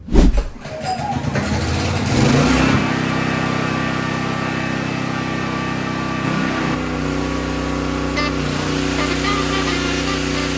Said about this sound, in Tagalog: i-testing natin ito ngayon para makita nyo kung gaano kalakas yung performance ng ating generator na to